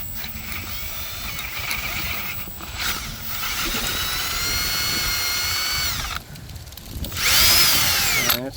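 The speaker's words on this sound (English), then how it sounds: "I'm going to start with the 21/64 drill bit" A power drill with a 21/64 bit whines as it bores into material, its pitch rising and dipping through several bursts, ending with a higher-pitched squeal.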